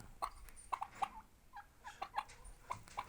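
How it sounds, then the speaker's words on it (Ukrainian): Several turkeys gobble in quick, repeated bursts, moderately close, with scattered calls overlapping across the few seconds. "Щось бігає, кричить, ще дві індички"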